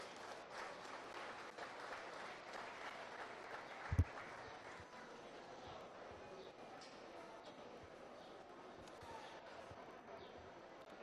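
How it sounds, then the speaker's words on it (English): Spectators at a junior beef cattle showmanship ring applaud exhibitors leaving the ring. The clapping is faint and distant with a steady texture, and a single sharp thump sounds midway. "Give these exhibitors a round of applause as they exit the ring."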